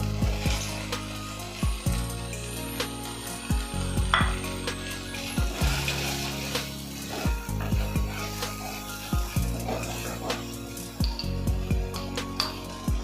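Green peas stirred and frying in masala for an aloo paneer matar curry, a steady sizzle broken by regular scraping strokes of a spoon against the pan, repeating about every second or two, close and moderately loud.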